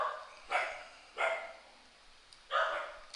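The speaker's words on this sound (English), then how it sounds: "the security dogs are just going nuts" Security dogs bark in three separate loud bursts spaced about a second apart, fairly close, with a quiet room hum between them and no talking.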